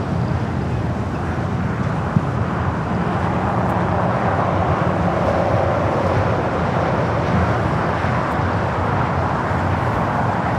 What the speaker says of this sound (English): heavy 777 departing